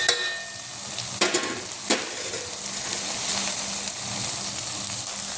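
Coarse moong dal is stirred into greens sizzling in a pan, giving a continuous close frying hiss punctuated by a few sharp scraping clacks of a spoon against the pan.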